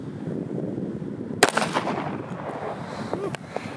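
A single sharp, loud gunshot from a .45 handgun fired at body armor, with a brief echoing tail and a fainter crack a couple of seconds later, set against steady outdoor background noise.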